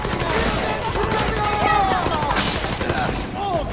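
Heavy gunfire in a Deus Ex video game, a dense continuous fusillade of rapid shots with booming impacts, loud and unbroken throughout.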